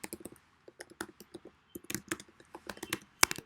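Someone types on a computer keyboard, entering an online text assignment: quick, close, irregular key clicks in short bursts, picking up pace toward the end and finishing with a sharper tap.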